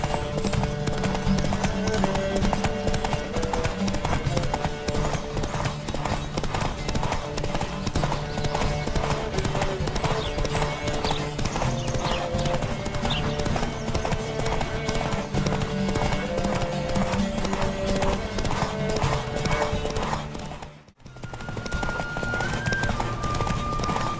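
Rapid, rhythmic hoofbeats of a galloping horse in The Witcher 3 pound steadily for the whole stretch, loud and close, over the game soundtrack, with one brief dropout near the end.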